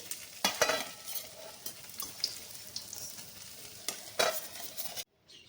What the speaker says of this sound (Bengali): উল্টে পাল্টে বেশ ভালো করে বড়াগুলোকে ভেজে নিয়েছি